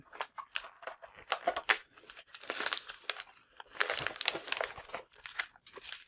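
Plastic bag wrapping a spool of 3D printer filament crinkles and crackles in quick bursts of handling, close and fairly loud, with short pauses between rustles.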